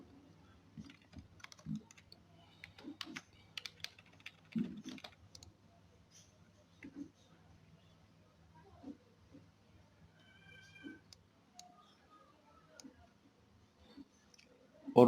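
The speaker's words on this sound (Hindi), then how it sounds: "ये मैं क्लिक कर रहा हूँ" A computer mouse clicks, with faint, scattered single clicks spread irregularly through a quiet room.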